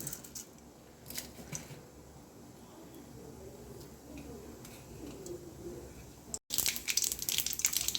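Mustard seeds crackle and pop in hot oil, close up, with a brief silence before a louder, denser burst of sputtering.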